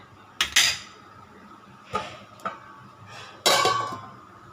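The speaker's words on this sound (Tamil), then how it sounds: "இப்போ மூடி வச்சிடலாங்க" A metal lid is set onto a cooking pot of lentil dumpling curry in a home kitchen, with sharp close metallic clanks and rattles in several separate hits, the last one ringing out longest.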